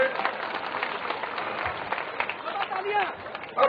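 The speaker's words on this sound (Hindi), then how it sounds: "जोरदार ताली बजाकर आदरणीय गुलाब जी का स्वागत करें।" A crowd applauds steadily at an outdoor political public meeting of the Suraj Sankalp Yatra in Basedi as a leader is welcomed, the clapping a dense, even wash with a murmur of voices beneath.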